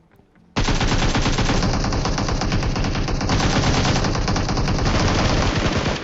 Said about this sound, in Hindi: ये दीवारों पे गोलियां मार रहा था